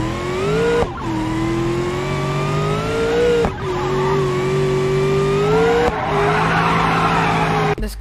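A drag car in BeamNG.Drive with nitrous engaged screams in a loud, sustained engine tone that drops briefly at each of three gear shifts before climbing again, with tire skidding noise mixed in.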